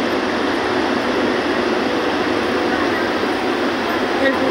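A train moves on tracks inside a steel plant where iron is being melted, giving a dense, steady industrial rumble that stays loud and even throughout.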